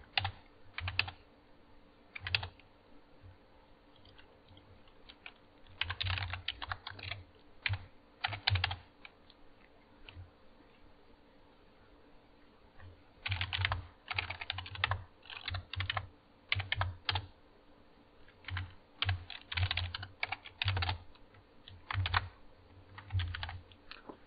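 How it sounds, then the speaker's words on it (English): Close, clattering keystrokes on a laptop keyboard as a command is entered, coming in uneven bursts with brief pauses across roughly twenty seconds, with no talking. "You know, I'll type a command"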